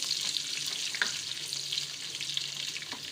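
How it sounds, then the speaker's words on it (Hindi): Onions fry in hot oil for a chicken and turnip curry, producing a dense, even crackling sizzle with occasional soft stirring clicks, close and steady throughout with no speech. "हम प्याज डालेंगे ऑयल में और इसको फ्राई करेंगे"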